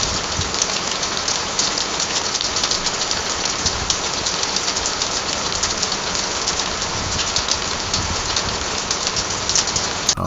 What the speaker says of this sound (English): Oh man, I can just listen to that rain all the time there.